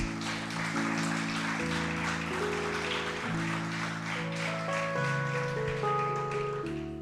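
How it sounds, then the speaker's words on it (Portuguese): Church congregation applauding the Lord: a wash of many hands clapping together, continuous and moderately loud, layered over sustained keyboard or organ chords that change beneath it. "Aplauda o Senhor Jesus"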